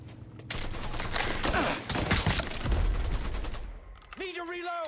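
Rapid gunfire in the video game Mafia III, sustained loud bursts of shots with a brief voice cry near the end.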